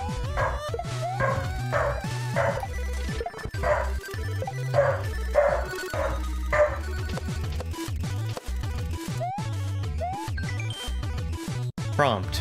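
A holiday romhack video game dog yaps in a cluster of short, bright barks early on, mixed into ongoing chiptune music with a voice talking now and then.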